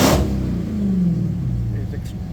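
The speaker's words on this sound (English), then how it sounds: "let me rev it up for you so you can hear this engine" A rebuilt 2019 Dodge Charger Hellcat SRT with 40,000 miles gives a short, loud rev whose deep engine tone rises and then falls away, close to the microphone, with a truck audible nearby.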